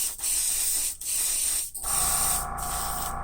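Candy metallic paint hissing from a spray onto a spoon, a steady close airy spray in three long bursts separated by brief pauses.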